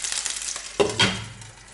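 Frozen pelmeni dumplings fry in hot oil in a pan, a steady sizzle broken by a couple of sharp spattering pops, close and fairly quiet with no voices.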